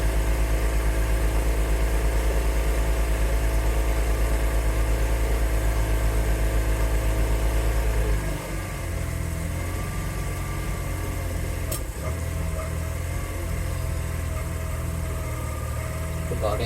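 An outboard motor on a boat planing through Barton Broad on the Norfolk Broads runs as a steady, loud low rumble that drops off and changes character partway through, with a sharp knock near the end.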